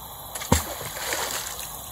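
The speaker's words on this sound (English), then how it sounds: "Big splash." A big splash into water in a valley setting, one sharp loud impact followed by brief sloshing, with faint background noise around it.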